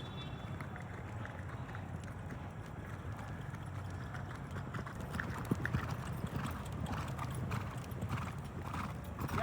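Several horses on a winter morning ride give a steady clip-clop of hooves at close range, fairly faint but continuous, with voices talking in the background.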